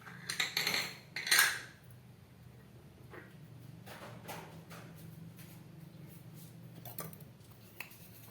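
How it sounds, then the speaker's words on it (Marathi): Coconut barfi mixture being spread across an oil-greased steel plate with a small bowl, giving two brief scraping clinks of metal up front, then soft, faint smoothing and scraping sounds over a low background hum. "आणि असं ते ह्या वाटीच्या साहाय्याने हे मिश्रण मी सगळीकडे असं पसरवते."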